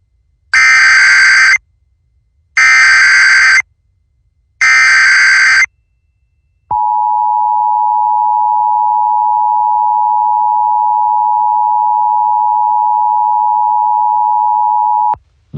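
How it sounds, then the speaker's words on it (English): Emergency alert system monthly test tone: three loud, evenly spaced bursts of a harsh two-toned attention signal, then a long, steady, piercing single tone held for about nine seconds before cutting off, with no voice. "This is a coordinated monthly test of the emergency alert system"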